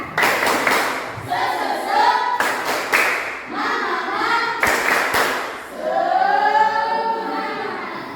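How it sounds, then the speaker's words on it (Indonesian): A primary-school class in a Qur'an lesson claps out a rhythmic cheer, with sharp bursts of hand claps in repeating patterns and voices chanting along, loud and close. "Tepuk semangat."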